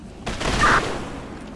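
A single ceremonial rifle volley fired at a memorial service, one sharp loud crack with a brief echoing tail in open air.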